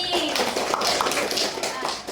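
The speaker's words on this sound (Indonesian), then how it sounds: "Ayo tepuk tangan dulu untuk Bani." A classroom of students applauds a classmate, a dense burst of clapping with voices mixed in.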